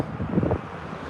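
Wind gusts buffet a microphone outdoors in cloudy Texas weather with a low rumbling roar that swells briefly, then settles into a steady blustery rush.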